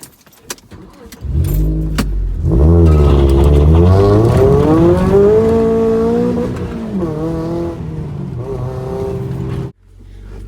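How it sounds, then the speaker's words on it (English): A 2005 Mazda MX-5 (NC) with its stock, quiet exhaust starts and idles with a low, smooth burble, a steady rumble that rises slightly, then cuts off abruptly near the end. "Quiet exhaust on that one."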